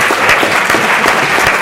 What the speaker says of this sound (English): Oh, you can applaud,